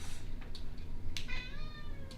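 A cat meows several times in a quiet room, the rising and falling calls fairly close and clear over a low background hum, with no talking.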